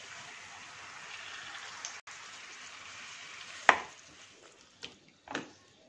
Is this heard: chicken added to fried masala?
yes